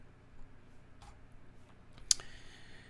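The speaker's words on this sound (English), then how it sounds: "I click open." A single mouse click rings out sharp and close in a quiet room while a texture file is opened in Maya, with faint clicking just before it.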